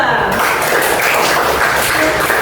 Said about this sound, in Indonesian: Tepuk tangan buat tim 2